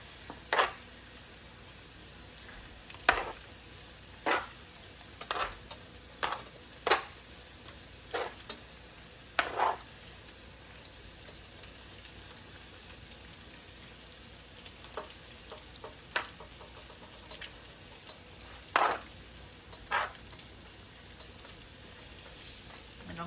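Southern-style cabbage fries in a pan with a steady, close sizzle and crackle, broken by scattered sharp clicks and scrapes of stirring, with no talking.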